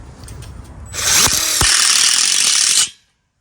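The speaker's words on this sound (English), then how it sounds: "I use their steel couplers to connect the steel tubes and secure it with self-tapping screws" A power drill drives self-tapping screws into steel tube couplers joining a steel outdoor kitchen frame; a loud, steady whine runs for about two seconds after a few faint taps, then stops abruptly, with no talking.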